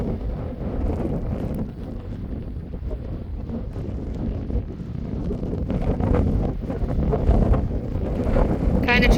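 Strong wind buffets the microphone outdoors beside East Beaver Creek in Copco Valley, a loud continuous low rumble with gusty swells and no clear talk.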